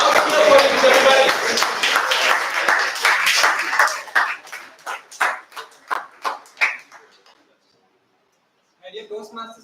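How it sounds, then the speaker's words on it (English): A Toastmasters meeting audience in Bangalore cheers and claps loudly at first, then individual claps thin out into separate sharp beats before stopping, with a brief burst of sound returning near the end. "Loud cheer for it, everybody."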